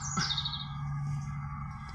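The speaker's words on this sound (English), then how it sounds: "Oh, bird." Near an old quarry beside farm fields, a bird gives a quick chirp at the start, followed by a faint lingering call over a low steady background hum.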